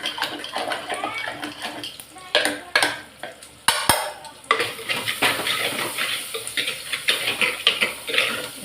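Cooked dal with tomato is mashed and stirred in a pot, giving irregular close scraping, clinking and squelching strokes in bursts, with a metallic knock partway through.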